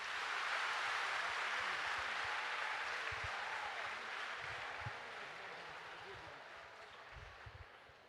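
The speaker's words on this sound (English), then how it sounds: "You may now clap for the team." Students at a school morning assembly clap for a quiz team, a steady wash of applause from a large group that lasts throughout and slowly tapers off, with faint voices underneath.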